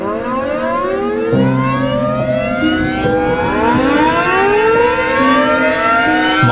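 A Darley Champion siren wails loudly and steadily, its rising and falling tones overlapping in a continuous, close, piercing howl.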